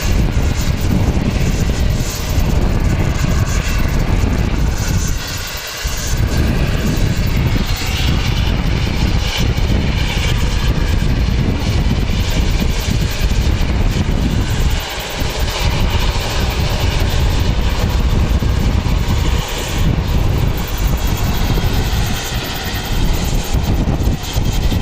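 Aircraft at Wellington Airport with its engines running ahead of taxiing, a loud continuous roar and hum that holds steady with only brief dips.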